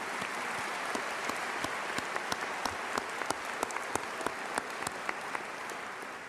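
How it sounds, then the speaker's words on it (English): Audience applause at the Dunkirk High School 167th commencement for the class of 2025, a dense steady wash of clapping from a large crowd with a few sharper close claps standing out, continuous for several seconds. "please join me in a round of applause for Mr. Mansfield and all that he has done"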